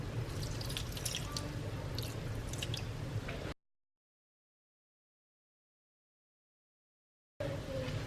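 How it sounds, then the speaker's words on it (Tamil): Water is added to a zucchini curry cooking in a pan, giving soft wet squishing and dripping sounds at close range, then a long silent gap before the bubbling briefly returns. "அதனால கொஞ்சம் லைட்டாக தண்ணி ஆட் பண்ணிக்கோங்க."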